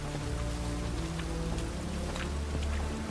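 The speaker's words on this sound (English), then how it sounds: "Looks like rain." Steady rain pattering on surfaces in The Witcher 3 video game, a continuous close wash of drops with faint low ambience and no talk throughout.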